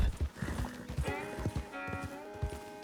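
Rhythmic hooves clip-clop at a steady trot in the video game Red Dead Redemption 2, with a horse whinnying partway through and tonal music or game sounds layered underneath.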